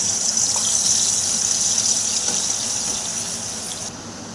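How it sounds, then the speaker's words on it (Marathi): Ground masala roasts in a spoonful of hot oil, a loud, continuous high sizzle with a hissing, slightly squealing edge that eases off a little toward the end. "आता आपलं तेल गरम झालेलं आहे मगाशी दाखवल्याप्रमाणे तो मसाला आपण बारीक केलेला आहे तो भाजून घेऊया"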